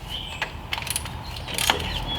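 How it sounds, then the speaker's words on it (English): A 13 mm ratchet wrench clicks while loosening a bracket bolt on a 2003-2009 Dodge Ram pickup, with several short, close metallic ratcheting bursts over a steady mechanical background. "I'm gonna grab a 13 and then separate this bracket just to give it some slack."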